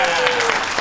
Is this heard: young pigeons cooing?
no